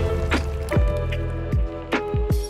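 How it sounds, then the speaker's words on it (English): Spider-Man landing a ground strike on a wet road in a video game makes a few short wet splashes and squishes, separate thuds spread across a couple of seconds over a low ambient hum. "Ground strike wet roads to cause a little splash."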